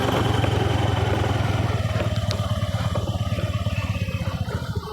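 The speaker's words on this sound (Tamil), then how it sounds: "பாருங்கள் இந்த வழியில் மேலே வண்டி போகுது" Engine of a vehicle driving along a road above a rain-leaking forest dwelling, a steady loud motor drone holding throughout with a slight fade toward the end.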